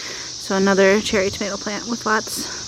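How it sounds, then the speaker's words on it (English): Cicadas drone steadily in a garden behind someone talking about cherry tomato plants, the high insect buzz running continuously under her close voice for the whole stretch. "you might still be able to hear the cicadas in the background"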